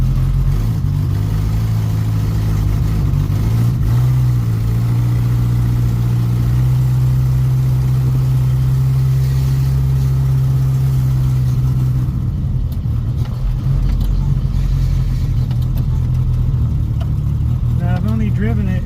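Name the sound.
Toyota Hilux truck engine running on the road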